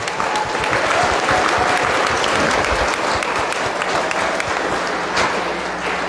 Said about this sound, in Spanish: Para ellos el aplauso